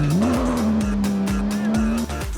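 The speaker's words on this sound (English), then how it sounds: "This supercar has lost control and caused an accident." A supercar loses control, its engine droning at a steady high pitch while the tires skid with rhythmic squealing pulses, loud and close, before the engine cuts off abruptly near the end.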